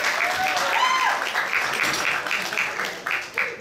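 An audience at a fundraising dinner with roast wild boar breaks into steady applause, a dense close wash of clapping that lasts throughout, with voices mixed in underneath.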